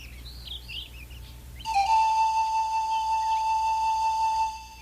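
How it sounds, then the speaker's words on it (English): Nightingale song in a fairy-tale setting: soft chirping warbles give way to a long, loud, steady whistled note held for several seconds, with no voices. "Nightingale."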